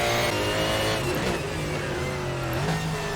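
Ford GT1 race car lapping Mid Ohio in a racing video game, its engine droning loudly and steadily, with pitch dipping as it shifts and climbing again as it accelerates.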